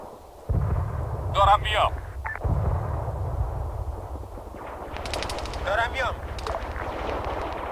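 Machine-gun and rifle fire from an Arma 3 battle rattles out in short bursts and single shots over a steady background rumble, with a voice speaking between the volleys.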